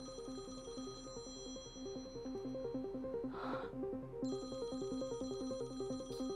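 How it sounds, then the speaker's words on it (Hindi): A phone ringtone plays a repeating electronic melody in a regular looping pattern, fairly loud and clear, with a brief breathy noise partway through and no speech. "घंटी बज रही है।"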